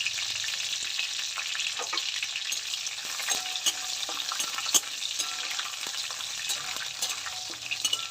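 Cumin seeds, dried chillies and bay leaf frying in hot oil, producing a bright, dense crackling sizzle with scattered pops and stirring scrapes, close and steady, no speech.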